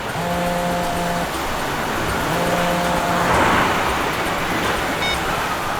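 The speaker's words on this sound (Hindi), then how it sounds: "गाड़ी चला रहा हूँ मैं अभी" A car being driven on the way to an office, its steady engine and road noise running loud and continuous throughout with no talk.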